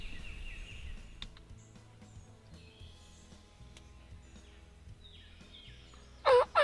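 A wild turkey gobbles in Kentucky woods during a spring hunt, one loud, close gobble bursting out near the end over a quiet outdoor background with faint bird calls.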